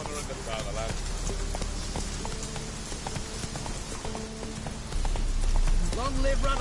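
Geralt's horse Roach gallops in The Witcher 3, rhythmic hoofbeats running beneath shouting voices and game music, growing slightly louder toward the end.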